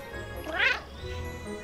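A short cat meow from the Cat Quest II video game, a single rising-falling cry under faint background game sound and low voice.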